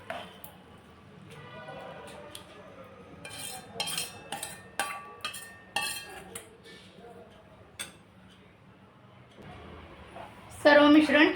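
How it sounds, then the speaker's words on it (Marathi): A thick coriander and gram flour batter is mixed in a pan over low to medium heat, with a run of clinking spoon-against-pan taps and soft scraping strokes, close and moderate, ending in a louder rustle. "बॅटर घालता घालता आपल्याला मिक्स करून घ्यायचं आहे"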